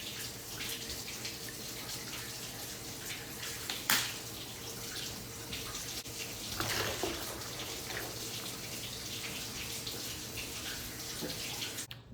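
Warm water runs and sloshes steadily in a bathtub that holds gentle baby soap, set up for bathing a silicone baby doll, with a constant near wash of flowing water and one brief knock partway through.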